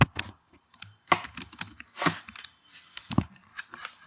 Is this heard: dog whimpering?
no